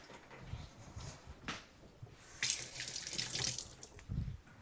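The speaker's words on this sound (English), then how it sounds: "I'm going to take that 3 seconds to wash my fingers to get the egg off it." A kitchen tap runs while fingers are rinsed under it to wash off egg, giving a close splashing water sound that surges and eases in uneven bursts.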